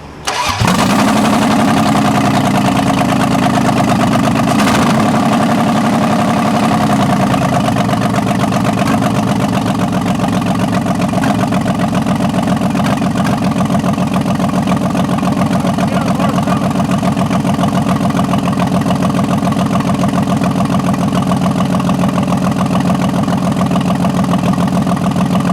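A Dodge Daytona 4WD engine with fuel injector problems cranks briefly, catches and settles into a steady, loud idle that runs on uninterrupted for the rest of the stretch, close by with no talking.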